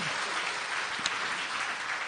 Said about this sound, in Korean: 모든 영광 하나님께 박수로 돌립니다.